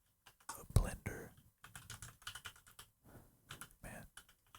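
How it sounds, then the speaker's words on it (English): Quiet, close-up typing on a computer keyboard while coding in Python: soft, irregular bursts of key clicks, with brief pauses between flurries, in a hushed ASMR setting. "I feel like my fingers are doing pretty good on the keyboard today"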